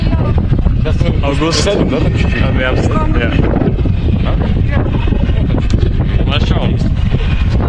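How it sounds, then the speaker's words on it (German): Strong wind on a coastal cliff on Russky Island near Vladivostok buffets the microphone with constant loud low roaring gusts, while someone talks over it throughout. "Also es ist sehr windig im Moment"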